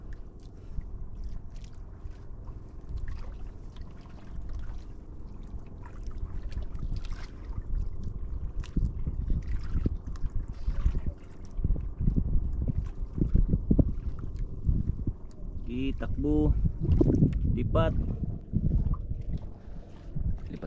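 A small boat moves on open water under steady wind noise and low engine-like rumble, while people talk quietly nearby.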